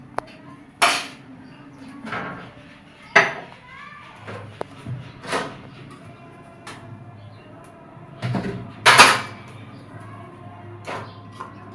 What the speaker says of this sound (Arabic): اغسل بقى المواعين الاول كده.